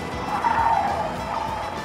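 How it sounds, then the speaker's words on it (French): Tires squeal continuously as a car drifts in a racing video game played with a steering wheel, a loud, steady screech lasting the whole moment with no talking. "mais j'arrive vachement bien à drifter"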